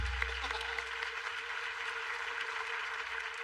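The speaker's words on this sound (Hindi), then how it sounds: "वाह कमाल है यार, तालियां बनती हैं।" Studio audience applause, a steady wash of clapping that holds at an even level for a few seconds with no clear talk over it.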